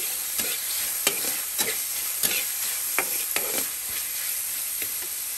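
Mung beans sautéing with soy sauce and chili in a pan, a steady loud sizzle broken by repeated scraping stirs of a utensil against the pan.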